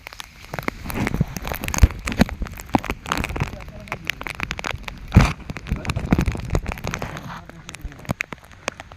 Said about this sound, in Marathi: पाऊस आला आहे पाऊस त्याच्यामुळं कवरमध्ये मोबाईल ठेवला आहे